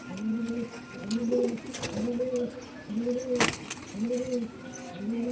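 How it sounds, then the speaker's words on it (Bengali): An old Kaldom pigeon from a home loft cooing in a steady repeating rhythm of soft, rolling calls, close by and fairly quiet, with a sharp brief noise partway through. "আমাদের লাইনের পুরনো একটি কালদম পায়রা।"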